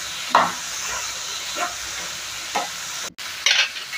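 Beans frying in a pan with turmeric, with a steady sizzle and hiss and several scraping stirs of a spoon through the vegetables. No voices are heard.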